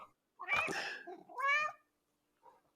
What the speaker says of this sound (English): I don't think I've ever heard a louder cat than that one in my life